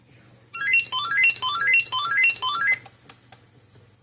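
A weather radio's electronic alert siren with rapid rising warbling tones, looping loudly for about two seconds before cutting off.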